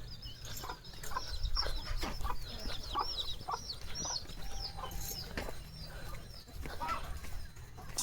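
Desi chickens on a small farm cluck and chatter continuously, several birds close by with short repeated calls and occasional wing flutters over steady outdoor background noise.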